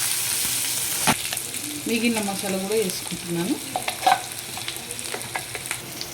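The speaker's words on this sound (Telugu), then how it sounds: "ఇప్పుడు మిగిలిన మసాలా కూడా దీంట్లో వేసుకొని" Masala frying and sizzling in a pan of bitter gourd curry, a steady hiss with stirring clatter throughout, while a voice talks briefly over the cooking noise.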